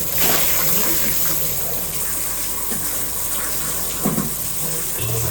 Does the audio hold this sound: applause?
no